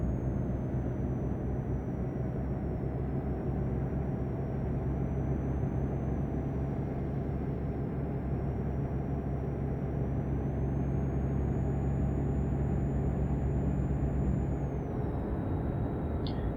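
Steady low truck engine drone from a Euro Truck Simulator 2 rig, idling or cruising at an even pitch throughout, fairly quiet with no talk, and a faint high whine running above it.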